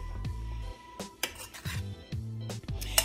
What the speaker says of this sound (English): Now we want to give this a mix.